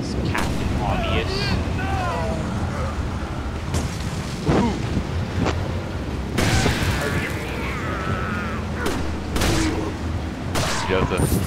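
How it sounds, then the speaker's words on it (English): Gunshots and booming blasts from Leon shooting barrels on a wagon in Resident Evil 4 crack out intermittently over a noisy game soundscape, with occasional voices in the mix. "Leon, shoot those barrels on that wagon!"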